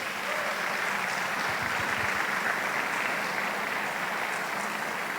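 A church congregation claps in a sustained, dense round of applause that holds steady throughout, with faint voices mixed in the background.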